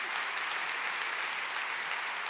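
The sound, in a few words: audience applause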